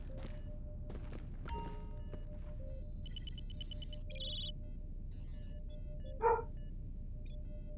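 Dog barking in GTA Online, a few faint, quiet barks and yips mixed with other game sounds such as electronic beeps and tones, over a low constant background hiss.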